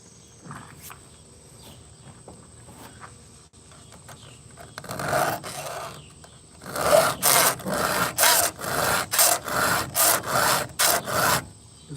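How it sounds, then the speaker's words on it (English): A tool is sharpened on a tailgate with a file, giving quiet faint scraping at first, then loud rhythmic rasping strokes that repeat steadily in the second half. "trying to get in here and get this sharpened."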